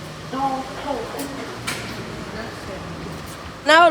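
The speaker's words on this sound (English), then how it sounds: "Doors closing." Lift doors sliding shut in a shopping centre lift, a soft mechanical glide under a recorded voice announcement, followed by a sudden louder chime or tone at the end.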